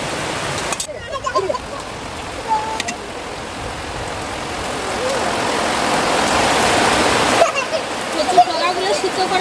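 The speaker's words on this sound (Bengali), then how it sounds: "আমরা জলটা ছাকার জন্য এইরকম একটা ঝুড়ি নিয়েছি কচুটিকে জল ঝরিয়ে নেব" Water draining from taro stems through a basket, a steady rushing splash that swells in the middle and then stops, with a few knocks and handling sounds around it.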